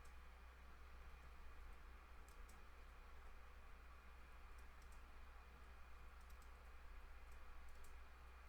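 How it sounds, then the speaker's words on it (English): Quiet, steady keyboard typing for in-game chat during a Skyrim session, a faint run of small clicks over a constant background hiss and low hum, with no talking. "Just typing to people in chat."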